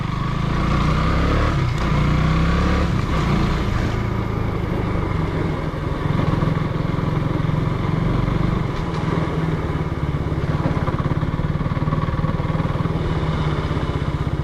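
Thunderbird motorcycle engine running steadily while riding on the outskirts of Sikkim, a loud continuous low drone with wind rush over the whole stretch and no talking.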